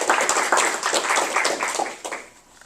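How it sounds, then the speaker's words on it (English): A crowd at a leadership talk gives a round of clapping, individual claps audible and fairly close, loud at first and thinning out toward the end. "So let's give a round of applause to Jim."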